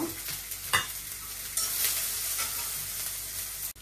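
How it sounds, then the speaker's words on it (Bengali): Onion, green chili and potato fry in a pan with a steady close sizzle, broken by scraping stirs and a few sharper clatters, no voices. "আলুটা দিয়ে দিই, এটা একটু ভাজি করে নিই।"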